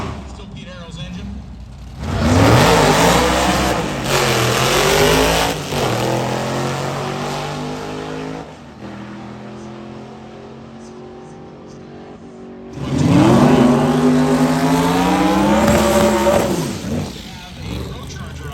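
A turbocharged hot rod drag car at Hot Rod Drag Week revs its engine in two loud bursts, each rising and falling in pitch, with a quieter idling stretch between them.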